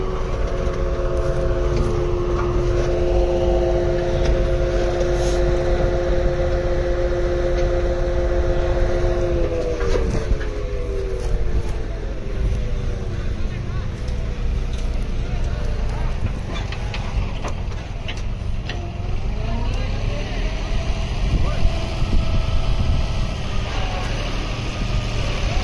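A sugarcane harvester with hydraulic pumps runs in a cane field, giving off a heavy continuous mechanical roar. A droning tone shifts in pitch, with intermittent knocks and clatter throughout.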